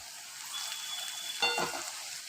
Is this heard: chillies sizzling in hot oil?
yes